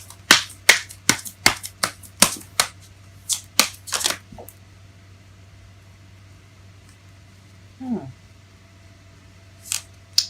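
Tarot cards are shuffled in a rapid series of sharp riffling snaps for about four seconds, close and loud over a steady low hum, then a brief sliding card sound and a short burst near the end.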